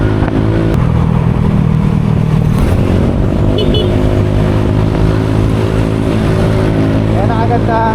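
A motorcycle fitted with an aftermarket exhaust pipe idles loudly up close, then its engine note climbs and drops through revs, with someone talking over the rumble.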